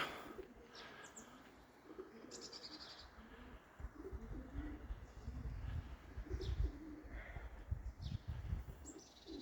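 Pigeons coo softly and repeatedly amid outdoor ambience, with occasional chirps and a faint flutter of wings; no one speaks.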